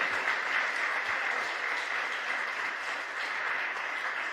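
Church congregation clapping together in a steady, even wash of applause, moderately distant and sustained throughout without talk.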